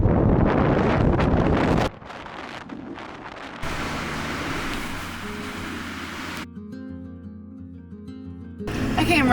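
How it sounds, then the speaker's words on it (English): Strong wind in the Mojave desert blasts against the microphone in loud rushing gusts, broken by abrupt cuts into quieter stretches with a low hum before the roar returns. "it's so windy"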